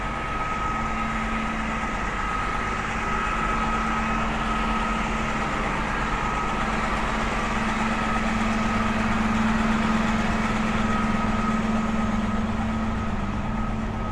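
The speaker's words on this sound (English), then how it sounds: "Want to get past this bus because it's a bit noisy." A noisy city bus idles on McDonald Avenue in Brooklyn, its steady engine rumble and whine loud and close, holding unbroken throughout with no talking.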